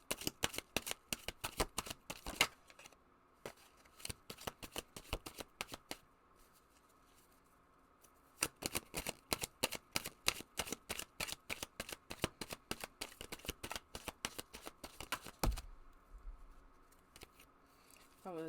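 A deck of cards is shuffled close by in rapid bursts of crisp riffling and flicking, with short pauses between rounds and a soft thump near the end.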